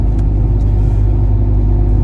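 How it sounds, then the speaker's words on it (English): Steady low droning hum of a turbocharged NX2 car with its exhaust removed, heard from inside the cabin as a continuous, loud rumble that holds level throughout with no talking. "If you hear humming, I'm sorry. We took the exhaust off, and the drone is kind of really bad in here."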